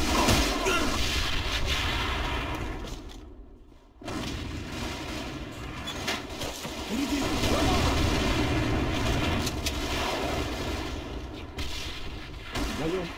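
A grenade blast in a combat video game: heavy, rumbling explosions and gunfire fill the stretch almost without pause, broken by one short lull, loud and close throughout.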